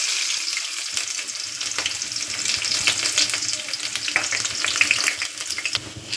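Onions sauté in a pan for brinjal thokku, crackling in a loud, steady sizzle with constant stirring clatter and scraping, and no voices over it.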